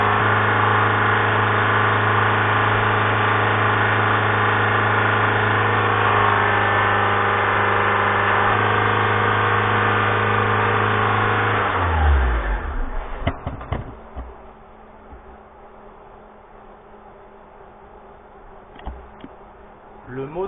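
A stage 3 remapped Audi A3 engine running at a loud, steady droning rev, then dying abruptly as the note drops and cuts out, leaving near silence with faint clicks afterward.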